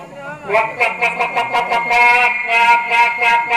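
A voice imitates a hen clucking, a quick run of short repeated clucks in a steady rhythm, close and loud.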